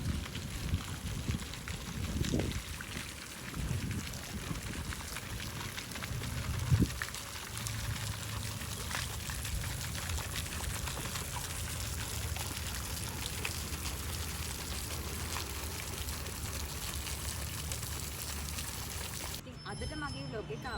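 Water flows through garden fountains with a steady, even splashing rush that runs without break for the whole stretch.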